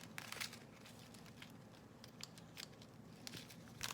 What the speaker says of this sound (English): you just have to cut off the excess thread like this